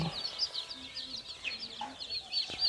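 Day-old chicks of mixed breeds peep steadily in a brooder while drinking water, a dense overlapping chorus of high, thin calls close by with no talk.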